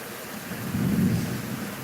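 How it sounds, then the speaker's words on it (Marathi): A low thunder rumble swells and fades over steady rain falling close by. "इथे खूप जास्त पाऊस आहे"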